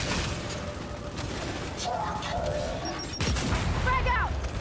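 Shotgun gunfire from the video game Gears of War 5 bursts out amid dense in-game battle noise and effects, with voices talking over the action.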